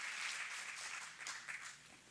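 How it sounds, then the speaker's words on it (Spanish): A church congregation applauds together, a brief dense burst of steady clapping that stays fairly even and then fades slightly, heard faintly without talk. "Fuerte ese aplauso a nuestro Dios."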